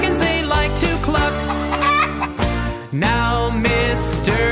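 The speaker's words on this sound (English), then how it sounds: "the chickens they like to cluck" Farmyard chickens cluck amid a busy, layered mix of tonal sounds that carries on continuously and loudly throughout, with no talking.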